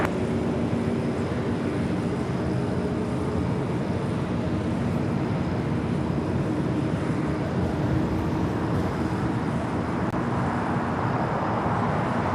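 A United airliner on approach to runway 25 left at LAX roars as a steady, broadband jet rumble that holds loud and constant throughout, with no talk.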